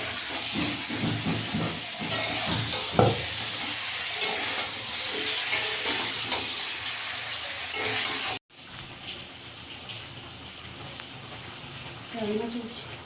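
Fish fries in a pan with a steady, dense sizzle and hiss that cuts off abruptly, leaving quieter kitchen sounds with a few faint clinks.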